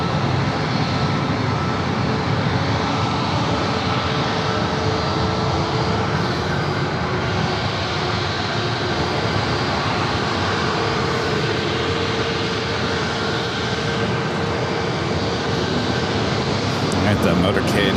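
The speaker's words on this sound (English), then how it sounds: "Delta A321, next aircraft to arrive," A Delta A321 airliner arrives on runway 27 at San Diego airport, its engine roar a loud, steady, broadband wash that holds for the whole stretch without a break.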